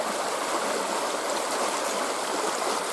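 Floodwater from a swollen Pacific Northwest river rushing through an overspill chute, a steady close broadband roar of churning water with no pauses.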